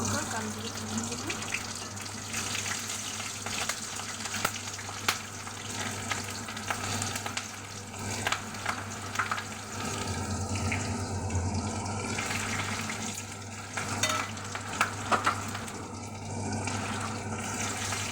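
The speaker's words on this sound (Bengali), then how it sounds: "কাঁচা লঙ্কা কালো জিরে ফোড়ন দিলাম" Green chillies and nigella seeds sizzle in hot oil as a tempering, a loud, steady frying crackle close by, with stirring scrapes and faint kitchen clatter and a voice that is sometimes heard underneath.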